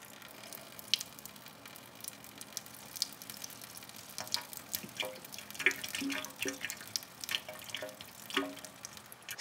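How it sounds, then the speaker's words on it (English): Red-dyed water pours out of a container after separating from a layer of vegetable oil. Soft, irregular trickles and drips patter quietly throughout. "See how only the red water pours out?"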